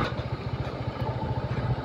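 A motorcycle engine runs close by with a steady, throbbing low pulse and a faint clatter, with no voices over it.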